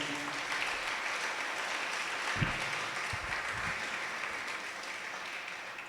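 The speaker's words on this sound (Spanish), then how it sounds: "¿Puede darle un aplauso al Señor?" Church congregation at a Spanish-language service applauding the Lord: a steady, dense wash of clapping from many hands, somewhat distant and moderate in level, lasting about six seconds.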